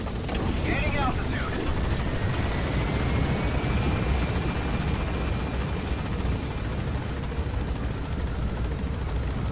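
A helicopter in Metal Gear Solid V drones steadily throughout, a loud dense rotor and engine roar with a faint rising whine, continuous and close with no breaks.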